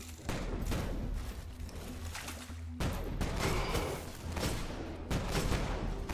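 Repeated shotgun blasts in the video game Destiny, fired in quick succession over a steady din of combat effects and rumbling low-end noise, loud and close throughout.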